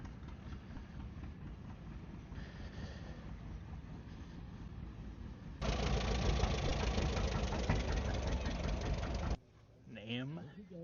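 A Farmall H tractor engine runs at an old threshers show in Yuma, Colorado, a steady mechanical drone that swells louder midway, then drops as a voice speaks at the end.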